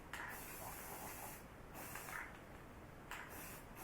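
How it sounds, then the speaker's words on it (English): Primer sprayed from an aerosol can onto a composition doll, a close, loud hiss in bursts of about a second and a half with brief pauses between, and no voices. "now I'm going to spray the primer"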